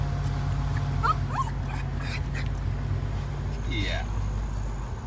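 A pet dog whimpers in high, thin rising whines, several brief cries spread over a loud steady background rumble, like a moving vehicle, with no clear talk.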